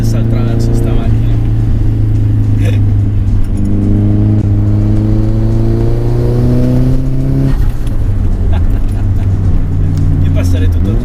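A Nissan Silvia 180SX S13.5 accelerates hard through several gears, its engine rising loudly up close with sharp turbo blow-off puffs at the shifts, while people talk over it.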